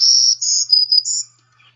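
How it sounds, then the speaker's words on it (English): A warbler sings its aggressive dawn song: a quick run of high, thin, buzzy notes in several short connected phrases, clear and close against silence, ending in a faint trailing note. "Here's the aggressive dawn song."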